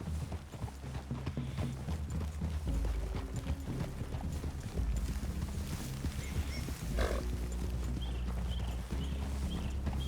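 Horses walking in Red Dead Redemption 2, with steady clip-clop hoofbeats running throughout under layered game ambience and low rumbling background tones.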